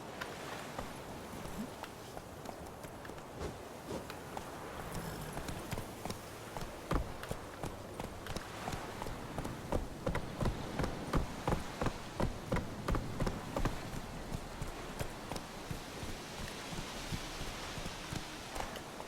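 Roach, a horse in The Witcher 3 video game, clip-clops along at a steady walking rhythm. The hoof beats are close and clear and quicken into sharper strikes midway, with a faint ambient bed beneath them.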